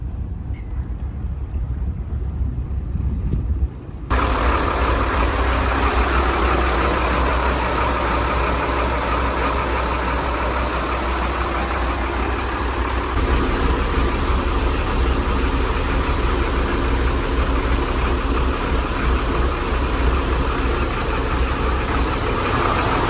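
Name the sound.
1980s powerboat with Dorset diesel engine running in reverse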